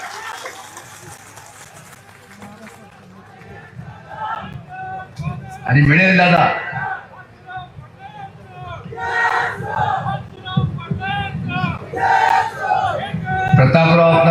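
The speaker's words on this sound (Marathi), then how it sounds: "जोरदार टाळ्या" A rally crowd at a Nationalist Congress Party induction event in Nanded cheers and claps in loud surging bursts, rising between stretches of someone speaking over a public address system.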